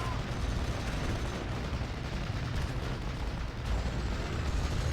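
Dense battlefield gunfire and artillery rumble in the Steel Division WWII strategy game, a continuous wash of shots and booms as a 6-pounder anti-tank gun and FT-17 tank engage, steady and loud throughout.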